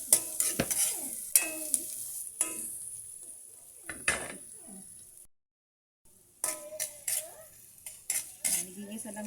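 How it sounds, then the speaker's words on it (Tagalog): Garlic and onion sautéing in a pan, with repeated metal spoon clanks and scrapes against the pan over a light sizzle, a short silent gap midway, then more clattering stirring. "Nagigisa lang natin ito hanggang sa lalabas ang kanyang aroma"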